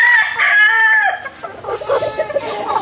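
A white Kelso rooster crows nearby, one loud drawn-out call that breaks into clucking and farmyard fowl noise at the end.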